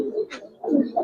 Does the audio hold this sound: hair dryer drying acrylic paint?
no